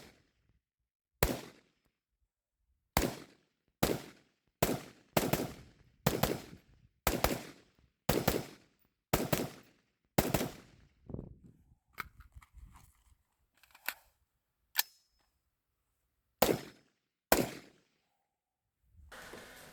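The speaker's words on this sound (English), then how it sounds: "suppressor setting, full magazine, and let's see how the HK416 does when the gas" A suppressed HK416 rifle on the suppressor gas setting fires through a full magazine in spaced single shots, about a dozen sharp, loud reports at a steady pace with short pauses, then a few scattered final shots and quieter clatter.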